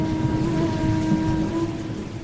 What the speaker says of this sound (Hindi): तुमने आहिस्ता से कहा, बारिश कितनी खूबसूरत है।